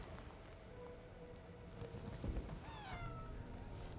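A cat meows in a show scene, a short rising-and-falling call near the end, heard over a steady windy, boat-like background hum and low rumble.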